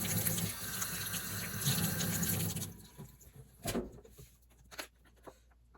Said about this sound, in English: So let me just wash my hands real quick.